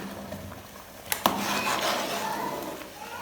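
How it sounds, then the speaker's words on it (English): A spoon scrapes and knocks against a pot while thick ogbono soup is stirred, two sharp clinks followed by a steady close scraping, with no talk. "have to turn to avoid too much burning. To avoid too much burning, you have to turn."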